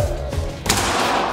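Airsoft pellets striking a table, a quick burst of close, sharp snapping impacts with thuds, one louder crack partway through, heard alone without talk.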